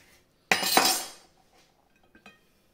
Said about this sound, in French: On va couper nos tranches en triangle.